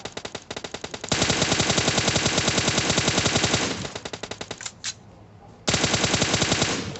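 Rapid automatic gunfire from a video game fires in long, loud bursts, stops briefly near the middle, then starts up again, close and dominant with no talk over it.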